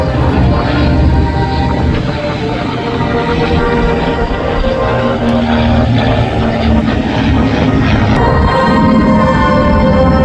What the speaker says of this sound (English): PT-13 coming here from the left. Silver aircraft.